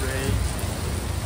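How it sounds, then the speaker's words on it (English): Pouring rain at Sentosa, Singapore, a dense, loud, continuous hiss of downpour filling the short moment with no pauses. "It starts pouring."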